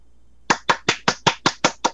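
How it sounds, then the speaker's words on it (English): Eight crisp, evenly spaced hand claps from a single person, close and sharp against near silence, following a brief pause. "giving you a round of applause"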